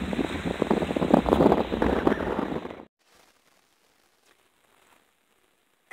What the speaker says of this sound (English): it is a tad breezy, really quite breezy